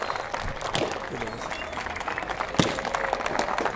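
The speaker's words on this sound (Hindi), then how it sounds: "तालियां रुकनी नहीं चाहिए।" Scattered, uneven clapping from a school farewell party audience with a few sharper individual claps standing out, while low voices murmur underneath.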